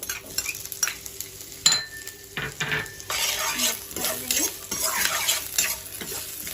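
Carrots and capsicum stir-frying in hot oil tempering for masala Maggi, with steady sizzling broken by repeated scraping and clinking of a spoon against the pan, close and moderately loud.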